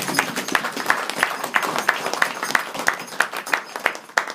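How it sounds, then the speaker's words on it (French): Church congregation applauding, with clapping and a steady rhythmic beat of sharp claps at roughly three per second over a crowd wash, sustained and moderately loud. "Est-ce que tu peux applaudir le Seigneur, bien-aimé?"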